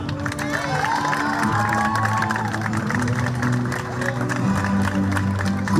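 Audience applause and crowd noise fill the air at an outdoor beach volleyball award ceremony in Mersin, steady clapping and cheering over an amplified announcer's voice and background music.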